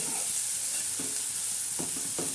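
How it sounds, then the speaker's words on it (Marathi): Sprouted legume usal frying in a pan while being stirred, a steady dense sizzle with a few soft spoon knocks against the pan at intervals. "आता समजा हे फ्राय होत आहे ना याच्यात मी टाकल्याने चव उतरते तर मीठ बी चांगला असं मस्त हलवून घेणार आहोत"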